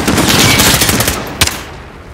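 A machine gun nest firing in Call of Duty MW, a dense, loud, continuous roar of rapid automatic shots close by, ending in one sharper crack before the fire fades out.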